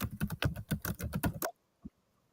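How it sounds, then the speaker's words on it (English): Rapid, continuous keystrokes on a computer keyboard clatter close by for about a second and a half, then stop, leaving one faint tap after a brief pause. "Mad typing sounds."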